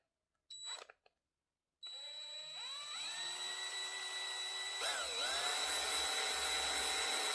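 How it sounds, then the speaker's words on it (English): A power drill bores a small hole in soft plastic on a Dremel rotary tool being repaired. A couple of short bursts come first, then a steady high whine that keeps running close to the mic and rises slightly in pitch as it cuts. "I'm going to drill a little hole."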